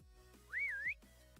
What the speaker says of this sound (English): What the hell just whistled at me?